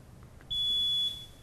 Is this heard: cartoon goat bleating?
no